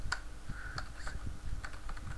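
Keys clatter on a computer keyboard in short irregular bursts of clicks, close and fairly quiet, with no talking over them.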